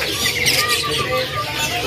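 Birds chirp and call in a kiosk at Pramuka bird market, many thin overlapping tweets and whistles close by over a busy market hum.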